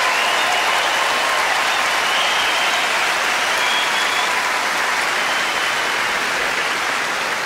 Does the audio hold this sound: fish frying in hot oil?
no